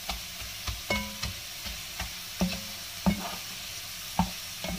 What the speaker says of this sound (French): Le gingembre est bien grillé et tout